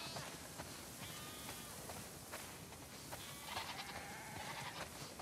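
Sheep bleating in The Last of Us Part II, a flock in a barn setting with several overlapping bleats under a noisy wind-like background, one louder bleat rising near the end.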